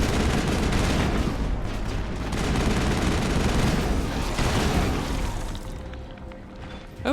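Thorian enemies in Mass Effect unleash dense, sustained gunfire, a loud continuous barrage of overlapping shots that thins out near the end.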